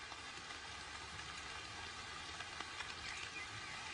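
Steady rain falling through a Russian forest, a soft continuous hiss with scattered drops on leaves, faint and even throughout with no voices.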